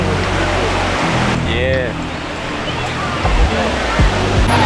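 Surf rolls in on a crowded Sydney beach, a loud continuous wash of waves and wind noise up close, with a brief voice and distant crowd chatter mixed in.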